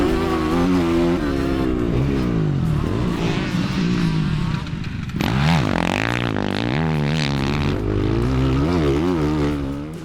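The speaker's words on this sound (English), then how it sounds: "this is the coolest sounding four-stroke in the world right now" A Kove MX 450 four-stroke motocross bike revs hard close by, its engine note rising and falling in repeated throttle swells, surging louder midway as it accelerates across the track.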